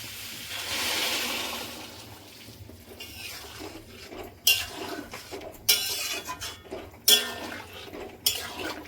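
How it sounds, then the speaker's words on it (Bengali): Hot boiled water poured into a pan of cooking paneer and cauliflower vegetables: a steady pour with a soft hiss, then several sharp clinks of a utensil against the pan, close by and with no talking. "গরম জলটা দিয়ে দেবো"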